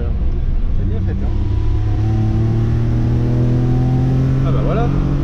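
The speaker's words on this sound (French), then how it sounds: "Il tourne bien ce moteur." Peugeot 604 engine running, a steady idle rumble with a slight rise in revs partway through, close and loud, with a brief metallic rattle near the end.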